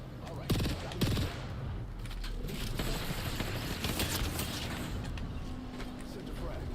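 Bursts of automatic gunfire and scattered single shots ring out during a battle royale video game match. They crackle at moderate distance over a busy, noisy background, with a couple of sharper shots standing out near the start.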